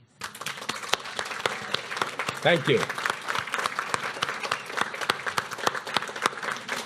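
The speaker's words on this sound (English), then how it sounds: "this round of applause from all of us here on this stage is for all of you" An audience at a women-in-music writers' reading event applauds steadily, dense overlapping claps with sharp individual hand strikes, while a voice briefly speaks over it.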